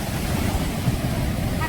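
Sea waves wash up around sandals on a shore, a close, rough rush of water mixed with wind noise on the microphone.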